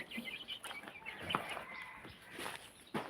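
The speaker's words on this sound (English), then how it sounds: "Look at this particular hen here." A hen clucks softly among her six chicks in a garden chicken compound, with faint, scattered calls at a distance.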